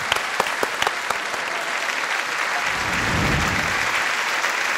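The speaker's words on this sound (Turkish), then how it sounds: "En büyük alkışlar Ünlü Sayın Efendi." A studio audience at a Turkish TV music show's 90s night applauds steadily and loudly, sustained clapping filling the whole stretch with no voices over it.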